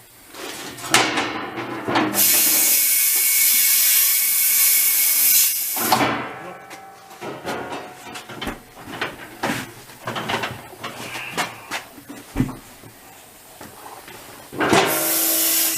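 A bead seater blasting air to seat a tire bead on an Atlas TC 589 tire changer: a long loud hiss, then clanks, knocks and shorter air bursts from the tools, with a final blast at the end.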